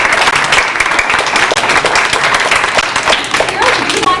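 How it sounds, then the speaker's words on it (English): Loud, close applause at a Brownies bridging ceremony, many people clapping in a dense, uneven rattle with individual claps standing out near the recorder. "They deserve applause."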